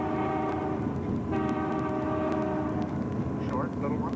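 A locomotive horn sounds from inside the cab of a 1990 Canadian cross-country passenger train, a loud, sustained harmonic blast starting about a second in and holding over the steady rumble of the moving train.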